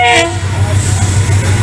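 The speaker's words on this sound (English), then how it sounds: "There you go, the train." A train's horn blares loudly at the start over a continuous low rumble of railway wagons rolling past close by.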